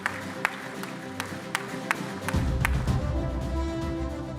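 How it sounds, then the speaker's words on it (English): Conference audience in an auditorium breaking into applause, first scattered individual claps then a sustained wash of clapping from many people, moderately loud and steady. "I guess this applause comes from my students that are here"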